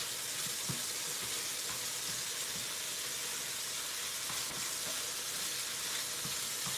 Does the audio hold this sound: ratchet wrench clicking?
no